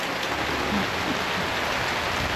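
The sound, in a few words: rain and wind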